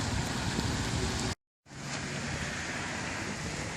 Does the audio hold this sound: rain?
yes